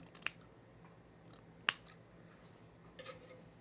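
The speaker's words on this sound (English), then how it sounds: "I'm just trimming the seam allowance and nipping these little corners that hang off like that" Scissors snip close by through fabric binding and seam allowance, nipping off small corners while sewing a boho tunic: three separate crisp cuts spaced over a few seconds, with quiet room background between them.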